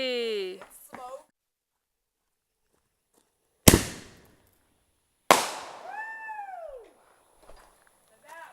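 Two sharp firework bangs burst a couple of seconds apart outdoors, each trailing off in crackle and hiss, the second followed by whistling descending tones; brief voices and cat-like calls come before the first bang.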